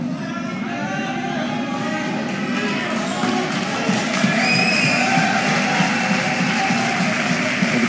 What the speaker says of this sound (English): The crowd trying to get back behind their hero here